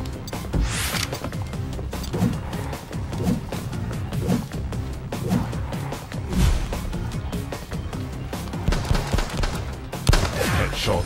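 Gunfire in the shooter game The Club, rapid overlapping shots and bursts in a near-continuous barrage with a few louder cracks, a game voice briefly heard beneath.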